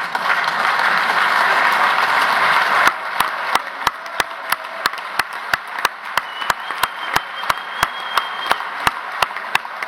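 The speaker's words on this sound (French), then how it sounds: "je vous demande de vous lever et de les applaudir chaleureusement" A crowd at a trade union congress closing speech applauds loudly for a few seconds, then settles into slow, rhythmic unison clapping, sharp even claps roughly every second.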